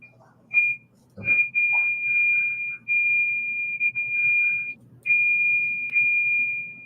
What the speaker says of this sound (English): It's like an alarm sound backing up.